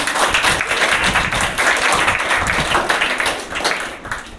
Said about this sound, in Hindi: तो हम एक बार उन अभिभावक के लिए जोरदार ताली लगाएंगे